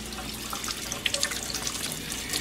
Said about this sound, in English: we're going to clean it up in the sink